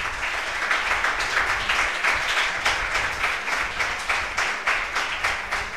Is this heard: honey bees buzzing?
no